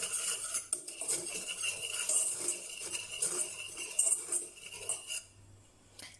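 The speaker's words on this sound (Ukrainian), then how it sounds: "Просіяне борошно і перемішуємо все вінчиком до однорідності." A wire whisk beats sifted flour and starch into a batter in a bowl for a milk cake, giving quick, steady metallic clinks and scrapes against the bowl at close range with no voices.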